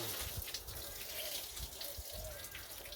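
Dirty brown water drains and splashes out of a car radiator during removal of an RB30 engine from a VL Commodore, a steady close trickle and gush with faint muttering.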